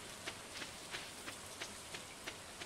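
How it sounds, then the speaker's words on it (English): Rain falls in the farming video game Stardew Valley as a soft, steady hiss, with faint regular ticks repeating about every third of a second. "because it's raining."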